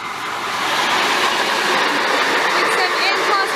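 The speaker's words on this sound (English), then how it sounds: "we've got an Albury service passing, led by an N class." An Albury passenger service led by an N class locomotive (N463) passes Kilmore East, its wheels and carriages rushing by in a broad, steady roar at close range, with a voice speaking over it.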